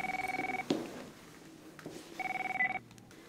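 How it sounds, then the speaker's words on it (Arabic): A telephone rings unanswered indoors: two bursts of rapid electronic trilling rings separated by a pause, fairly close, with a brief knock or clatter between them. "ما بين حدا يرد على التليفون"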